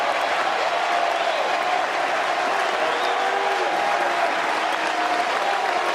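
A college baseball crowd roars and applauds at the ballpark in Chapel Hill, North Carolina, during a full-count moment, a steady wash of cheering that holds loud and dense for the whole stretch with no break.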